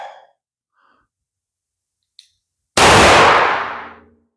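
.38 Special hand loads charged with Trail Boss powder fire a single loud, sharp shot that rings out and decays over about a second, following near silence and a faint breath.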